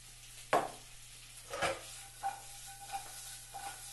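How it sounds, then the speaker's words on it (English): Food stir-fried in a pan over high heat, with several separate scraping stir strokes spaced about a second apart over a low steady sizzle, close and moderately loud with no talking. "Basically, it's like sauteing."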